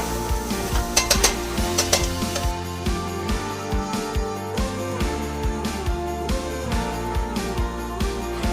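Pork schnitzel fries lightly in olive oil in a pan over medium heat, with a continuous close sizzle and occasional clatter from the pan, and no talking.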